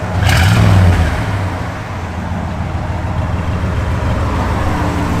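A 1973 Chevrolet camper van engine with dual exhaust runs nearby, a brief louder rev at the start easing into a steady low rumbling idle, with no speech.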